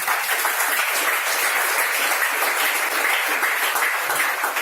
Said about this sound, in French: Acclamons pour la parole.